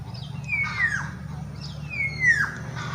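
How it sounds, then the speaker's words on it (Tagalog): Two descending whistled bird calls ring out about a second and a half apart over a low background hum, moderately close. "dalawang ibon yan babae, babae at saka lalaki malamang"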